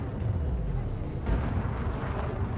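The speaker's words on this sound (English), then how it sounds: "so that's activating all the turrets" Megaship turrets firing in Elite Dangerous, a low rumbling barrage of muffled blasts with a heavier boom midway, while a voice speaks faintly underneath.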